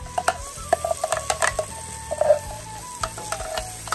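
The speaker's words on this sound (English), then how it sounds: "after that I'm going to add the paste. Okay, ginger garlic paste." Ginger garlic paste sizzles in hot oil in a pan while a utensil stirs it, giving soft repeated scraping clicks over a low crackling fry, close and fairly quiet, with no voices.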